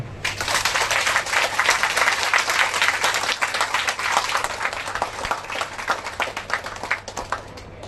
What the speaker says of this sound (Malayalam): ഒന്ന് കൈയടിക്കാമോ?